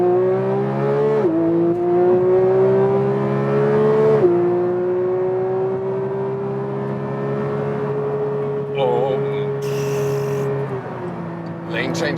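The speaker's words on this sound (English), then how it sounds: "There's less sound dampening, so you hear more of the engine, but also more from everything." A Porsche 911 GT3 Touring's flat-six accelerates hard through several gears, each long, close, loud rising howl cut by a quick shift, with brief talk in the cabin.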